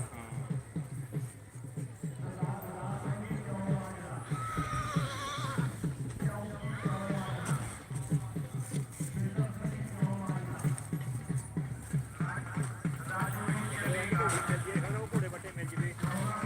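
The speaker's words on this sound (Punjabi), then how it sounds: "ਘੋੜੀ" Horses, including a mare, whinnying and snorting repeatedly with hooves clopping, amid background voices and general outdoor bustle.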